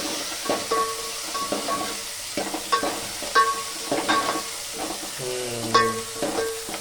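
Tomatoes, chilies, curry leaves and ginger-garlic paste frying in a pan for dal dhokli, with a soft sizzle under repeated scraping stirs of a spoon against the pan and occasional metallic clinks.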